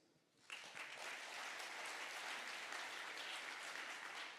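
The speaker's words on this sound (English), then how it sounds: "If I could give them a round of applause." An audience bursts into steady applause for a team at a conference session in Australia, the dense clapping starting abruptly after a brief quiet moment and holding at an even level throughout.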